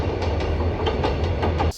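A Mugunghwa passenger train rolls across the 1930s Beolgyo iron railway bridge over Beolgyo stream, loud and close, with a steady rumble and rhythmic clickety-clack of wheels on the rails before it abruptly drops away.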